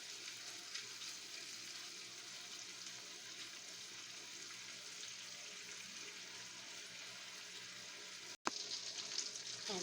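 Sausage frying in a pan gives a steady, even sizzle throughout, with one sharp break near the end before the crackle resumes at about the same level.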